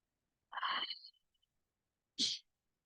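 Two short bursts, a first sharp sneeze followed by a second quick, breathy one about a second and a half later, close and alone in a quiet room.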